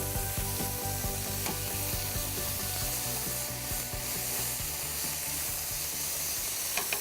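Tri tip steak sizzles steadily in a hot pan, a close, continuous crackling fry with occasional sharper pops and scraping, holding the same level throughout with no voices.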